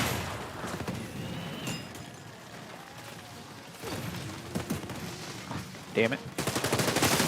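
Sniper gunfire in a shooter video game, a series of sharp shots and bursts scattered through a chaotic mix, with loud cracks near the end and a man muttering briefly.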